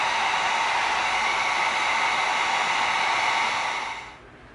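Heat gun heat sealing an EVA foam lightsaber, a steady close broadband blowing roar that holds evenly for about four seconds before tapering off.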